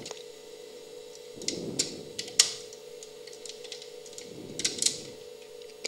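An old VCR tape transport mechanism stops: a low steady motor hum broken by a few sharp mechanical clicks and two soft clunks, close by and fairly quiet.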